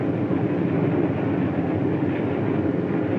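Passenger train of the 1950s rolling along tracks leading out of town onto the main line, a steady loud rumble with a continuous rhythmic clatter of wheels and no voices.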